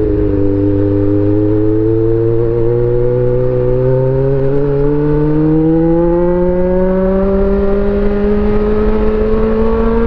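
A Honda CB400 motorcycle engine drones loudly and steadily up close while riding a mountain road, its pitch climbing slowly as it accelerates, with wind noise throughout.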